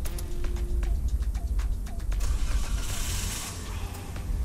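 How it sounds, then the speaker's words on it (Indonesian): A Toyota Avanza engine cranks and turns over right after a new car battery is fitted. A close, steady mechanical whir and rumble with creaky clicking runs continuously throughout. "Kemudian setelah itu kita starter untuk mesinnya."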